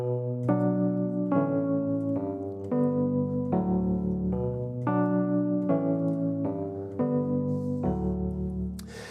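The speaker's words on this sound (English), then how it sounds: "Basically, it's a guitar line and a keyboard doubles it for the intro." A repeating melodic hook played by a guitar with a keyboard doubling the same notes, moderately quiet, in short rhythmic phrases without vocals.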